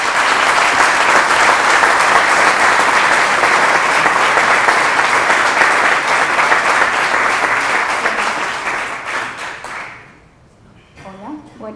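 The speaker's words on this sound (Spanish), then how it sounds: "Un fuerte aplauso para Gabriela." Sustained audience applause at a science and technology program presentation in Miraflores, a dense wash of clapping that carries on steadily before fading out, followed by a voice beginning to speak.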